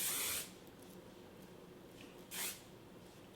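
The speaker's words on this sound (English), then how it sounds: "A little bit of spray wax to get rid of the frizzies." Hair spray wax misted from an aerosol can while styling long hair into a faux bob, one short hiss at the start and a second brief spray later, faint and close in a quiet room.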